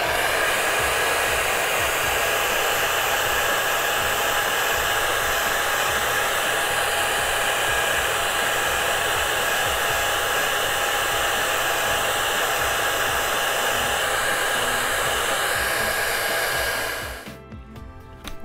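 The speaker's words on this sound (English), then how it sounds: "We're going to go ahead and hit it with a hairdryer one more time." A hairdryer runs steadily and loudly, drying acrylic paint on a canvas of poppies, with a constant blowing roar for most of the time before it cuts off near the end.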